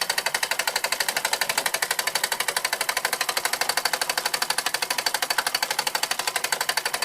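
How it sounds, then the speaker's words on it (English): An 1897 Carette toy steam engine drives small French toy hammers, producing a fast, steady, even metallic tapping that runs close and unbroken throughout with no voices. "it's running the very same hammers there, French hammers, as that I bought with this set"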